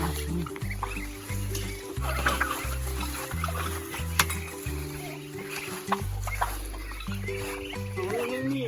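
Young turkey poults call and cluck in a farmyard, with wings flapping as they fly over, a steady chorus of chirps and clucks close by with a voice speaking now and then.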